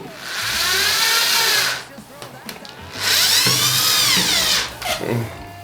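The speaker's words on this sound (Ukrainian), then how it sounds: "давайте попробуємо, як працює з маленькими мебельними саморізами" Grand cordless drill driver, styled like a Makita, driving small furniture screws: two loud whining bursts of the motor rising in pitch, separated by a short pause with a click, close by.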